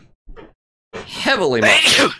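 A single loud, close sneeze with a sharp intake before it, coming after a brief faint vocal sound.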